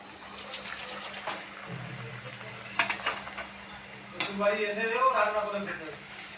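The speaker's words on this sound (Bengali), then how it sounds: "লুচি ভাজা হচ্ছে" Luchi, puffed flatbread, deep-frying in oil with a soft sizzle that swells near the end, amid clinks of utensils and pans and voices talking nearby.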